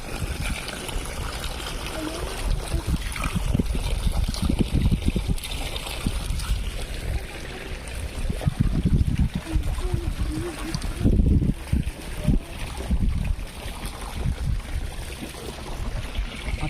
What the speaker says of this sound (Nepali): मुढाको माथिबाट चाहिँ पानी निक्लिरहेछ